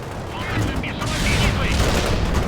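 Gunfire and explosions from the World in Conflict Soviet assault battle, a dense continuous barrage of rattling shots and booms that swells louder partway through, with no clear pauses.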